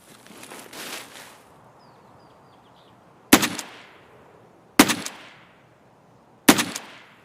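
Three sharp, loud single gunshots from the shooter game Escape from Tarkov, evenly spaced about a second and a half apart, each with a ringing tail, following a brief burst of rustling noise and faint chirps.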